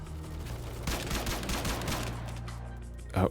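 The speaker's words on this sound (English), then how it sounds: "Wait, did that grass just respond to gunfire?" Rapid bursts of gunfire in the FPS game CROWZ crackle in a dense stream, ending with one louder blast; no talking.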